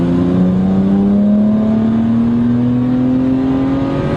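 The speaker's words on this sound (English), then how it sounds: "He's downshifting, rev matching to downshift. You love that? It's addictive, that noise." A BMW 135i fitted with standback and turboback exhaust revs steadily upward, its engine tone climbing smoothly in one loud, close, sustained pull with no talk over it.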